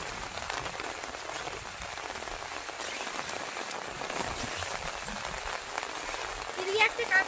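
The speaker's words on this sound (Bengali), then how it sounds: "আজকে সারাদিন সকাল থেকে একটানা বৃষ্টি পড়ছে।" Steady, continuous rain falls over a flood-hit village with damaged paddy fields, a dense even patter that stays constant throughout, with a few slightly louder drips near the end.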